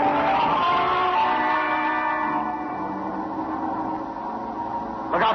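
Tyre skid on a road in an old movie scene, a loud sustained screech with heavy echo that fades slightly midway, then a sharp burst near the end.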